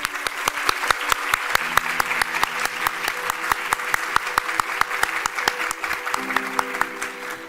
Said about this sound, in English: let us once again welcome our chief guest, Mr. Amit Chandra, and all our esteemed jury members with a huge round of applause